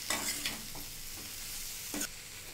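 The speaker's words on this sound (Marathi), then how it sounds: "आणि आता मी ह्याच्यामध्ये सिमला मिरची ॲड करते आणि हे जे फ्राय केलेले बटाटे होते ते पण ॲड करते। आता हे व्यवस्थित आपण मिक्स करून घेऊया।" Capsicum and fried potatoes are stirred in a sizzling pan, with a few distinct scraping strokes over a steady frying hiss, close and clear.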